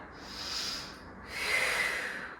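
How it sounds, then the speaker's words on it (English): Two breathy open-mouth exhales during a hatha yoga pose, the first brief and the second longer and stronger, close and alone with no talking. "Open mouth exhales when you need to release heat."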